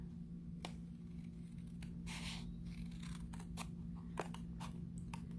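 Scissors slicing through thick cardstock while making a folded secret message card, heard as several sharp, separate snips over a steady low hum, close by and fairly quiet.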